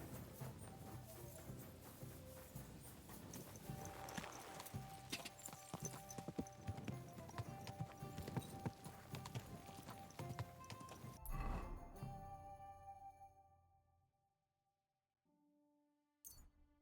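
Horse hooves clip-clop in a steady rhythm on a hard surface in the video game Kingdom Come: Deliverance II, mixed with ambient game sounds, then fade to near silence with a brief sound at the end.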